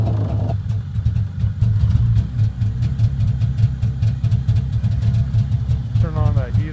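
A Polaris Indy 340 snowmobile engine idles unevenly just after a cold start with the choke partly on, making a close, throbbing putter, and a voice briefly speaks at the end.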